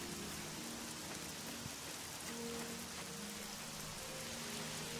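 Steady rain pattering down on surfaces in the video game The Elder Scrolls IV: Oblivion, a continuous wash of drops with no voices, heavy and even throughout.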